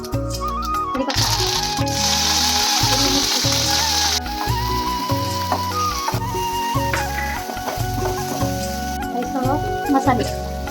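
Curry leaves crackle and sizzle as they hit hot oil for a spiced potato samosa filling, a steady hiss running under loud rhythmic background music.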